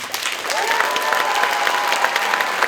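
A school band audience claps loudly and steadily after student trumpet solos, dense applause filling the room, with a faint held whistle-like tone under the clapping for a moment.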